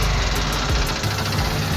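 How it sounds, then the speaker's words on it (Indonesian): A Yamaha Vixion 150cc motorcycle engine fitted inside a Lamborghini replica revs and runs steadily, loud and close with a constant rough drone. "Suaranya suara motor."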